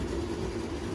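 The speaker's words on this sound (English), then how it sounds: "Sorry about the noise. There's a ceiling fan, an exhaust fan in this bathroom" A bathroom ceiling fan and exhaust fan running together, giving a steady low hum and broadband whoosh that holds constant throughout, close and fairly loud, with no speech.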